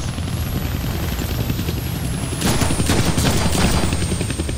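A helicopter in the video game Deadpool gives off a loud, continuous rotor roar, and a burst of rapid gunfire joins it halfway through.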